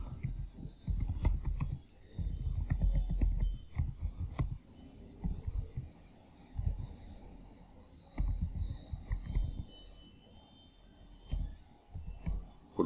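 Someone types a password on a computer keyboard, with bursts of quiet, close key clicks separated by short pauses and no speech.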